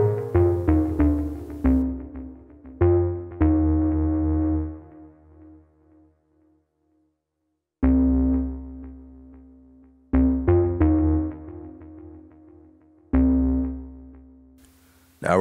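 Ambient bass synth from an Elektron Digitone, plucky notes that ring and decay in separate phrases, with one long fade into silence midway, played alone.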